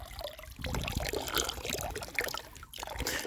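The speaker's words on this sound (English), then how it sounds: "that any fountain you can just drink out of." A public drinking fountain in Switzerland running continuously, a close, steady splashing and trickling of water with a brief dip midway, filling the whole stretch.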